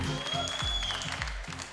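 A studio audience on an Azerbaijani evening television show claps briefly over music with a thumping bass pulse, the applause bright and busy but short-lived.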